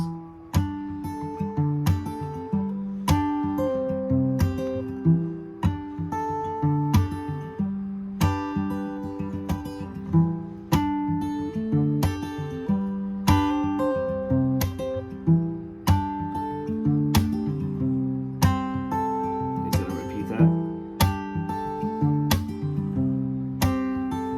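Strummed guitar chords from a song's chorus ring out in a steady rhythmic pattern, each strum sharp then sustaining, with no voices.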